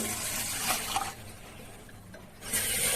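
Water gushes into a container of washed rice in two short bursts with a quieter pause between, close and moderately loud.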